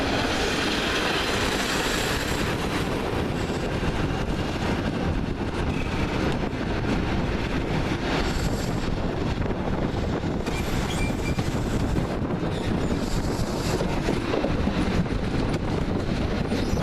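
Train leaving Wakefield Westgate for Leeds, heard as a continuous loud onboard rumble of wheels on track with light clickety-clack and no talk.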